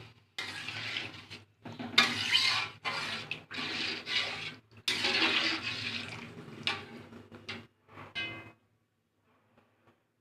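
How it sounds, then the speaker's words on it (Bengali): Water poured into a pan of fried rice and lentils, coming in bursts of splashing and bubbling separated by short pauses, then fading to near silence. "এবার আমি জল দিয়ে দেবো"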